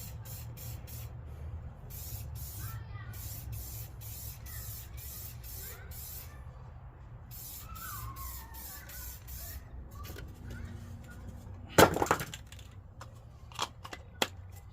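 Short, repeated hissing bursts of spray paint being laid on heavily over a rust-repaired Jeep YJ rear body mount, a steady rhythm of close sprays followed by a sharp clunk and a few lighter knocks near the end.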